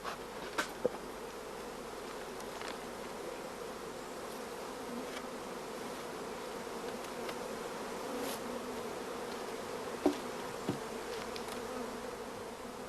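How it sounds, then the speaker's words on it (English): Honeybees packed into a crowded queen-rearing starter colony give off a steady, dense hum that holds evenly throughout, with a few brief louder buzzes and faint clicks near the start and around the tenth second. "The starter colony should be overflowing with bees"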